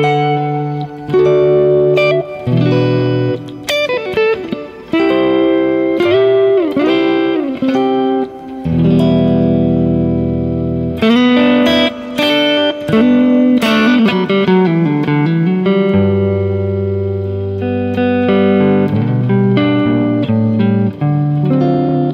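Electric guitar played through heavy reverb rather than delay, sustained chords and melodic single notes ringing out in a wide, washy tail, loud and continuous with no talking.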